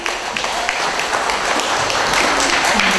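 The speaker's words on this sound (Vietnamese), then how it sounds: "Một lần nữa xin quý vị cho một tràng pháo tay để chào đón Tôn Nữ Áo Tím." Audience applause at a book launch in San Jose, a steady, dense wash of clapping from a crowd that holds evenly for the full stretch at moderate loudness, with no voice on top.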